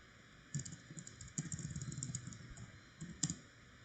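Computer keyboard keys tapped in short quiet bursts of clicks, several quick keystrokes grouped together over a faint steady background hum, with no voices.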